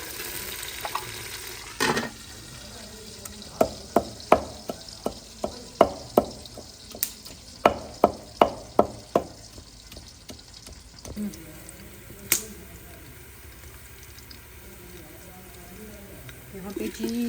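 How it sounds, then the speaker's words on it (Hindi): Onions fry in a pan with a soft continuous sizzle, while a spoon scrapes and knocks against the pan in a quick regular series of stirring strokes. The stirring then stops and the frying continues more quietly. "यहाँ पे जी फ्राई हो गए हैं हमारे प्याज"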